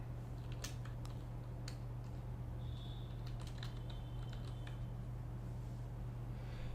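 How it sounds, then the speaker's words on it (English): Sparse, faint keystrokes on a computer keyboard while typing text during video editing, a few scattered clicks over a steady low electrical hum. "I just remove your text here and type Tai Lopez"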